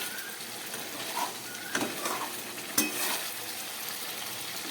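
Fish and spices frying in a pan as a little water is added, a steady soft sizzle with a few sharper clinks and scrapes of a utensil against the pan, no talk.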